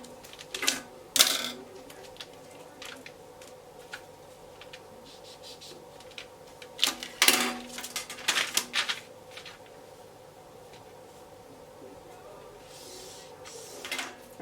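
Scissors snip through Ankara print fabric with short crisp cuts in two bursts, close by, and quieter rustling and handling noise between the bursts.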